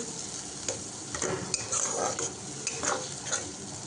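Spice masala frying in a pan with a little water, a continuous moderate sizzle broken by repeated scraping and stirring strokes of a spoon against the pan.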